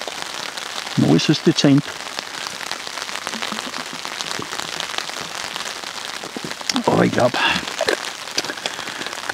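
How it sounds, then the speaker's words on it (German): Steady rain patters on a tarp shelter overnight in the outdoors, a constant close hiss of drops, with someone speaking briefly in German near the start and again later over the downpour. "Es regnet."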